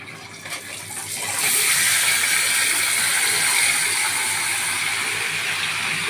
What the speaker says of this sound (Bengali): এই মটনটা আমি এবার ছেড়ে দিচ্ছি এই কড়াইতে।